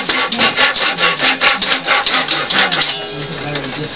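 A hand saw with an aggressive blade cuts around a wooden post to form a tenon for a rustic bed frame, giving steady rhythmic back-and-forth rasping strokes, close and loud, that ease off toward the end.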